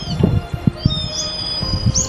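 Hungry herring gull chicks cry out for food in thin, high, rising calls over a bed of low, irregular knocks and rumbles, close by, with no one speaking.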